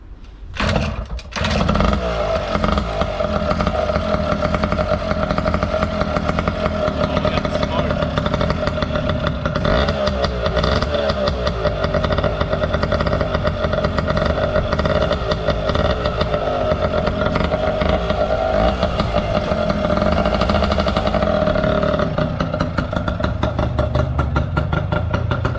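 An old-school project motorcycle's engine fires up and runs close by, holding a loud, rough, steady idle with occasional revs swelling and dropping for about twenty-five seconds before cutting off.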